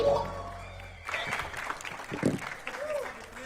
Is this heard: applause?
yes